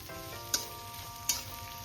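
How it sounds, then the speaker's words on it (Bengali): Onion and garlic fry in a pan with a steady, even sizzle, broken twice by brief sharp clicks, with no talking. "এবার আমি পেঁয়াজ আর রসুনটা একটু ভালো করে লাল লাল করে ভেজে নেব।"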